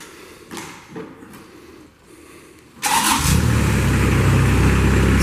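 After a few quiet knocks, the engine of a 2012 Moffett M55.4 truck-mounted forklift starts up abruptly and settles into a loud, steady idle hum close by.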